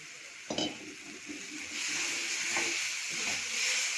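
Tomato and onion paste goes into a hot pan for a paneer dish, a soft clatter at the start followed by a steady, quiet sizzle and frying hiss that builds and holds, with faint stirring scrapes.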